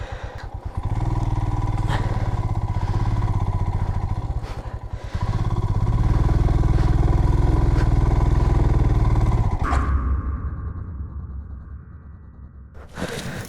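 A motorcycle engine revving hard and loud as the bike sits bogged in soft sand on the way to Pangong in Ladakh, in two long sustained roars with a brief dip between them, then the revs falling away to a quieter idle.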